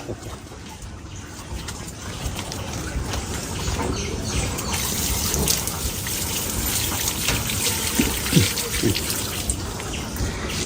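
R2E2 mango rinsed under a running tap: a steady, moderately loud wash of flowing water that continues throughout, with voices talking faintly underneath.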